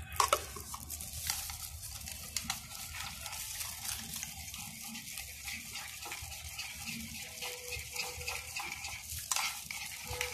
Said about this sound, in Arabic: وابدا اخلط المقدار بتاعي كله على بعض